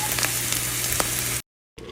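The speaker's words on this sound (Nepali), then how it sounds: "यो चाहिँ मेरो तामा भुट्दै गरेको।" Bamboo shoots (tama) frying in a pan for a Nepali dish, giving a steady, close, loud sizzle that cuts out briefly near the end and then resumes.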